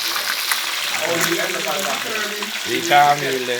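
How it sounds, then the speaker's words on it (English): Fish sizzles in a pot alongside turn cornmeal, a steady frying hiss heard close under someone talking briefly. "Turn cornmeal and fry fish."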